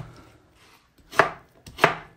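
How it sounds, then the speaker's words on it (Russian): Two sharp knife chops through lemons on a cutting board, close and distinct, spaced about half a second apart after a brief near-silent pause. "Все, режем все лимоны."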